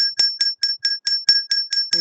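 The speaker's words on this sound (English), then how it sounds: "The bell" A small bright bell rings eight times in an even, quick rhythm, each strike clear and close with a short ring, alone with no voices.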